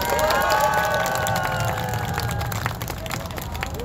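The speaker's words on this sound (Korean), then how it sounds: "그분들을 향해서 자 박수 한번 쳐주십시오" A crowd of fellow nationals at a Korean political party event applauds and cheers, a lively mix of clapping and raised voices with some whistling, fading slightly toward the end.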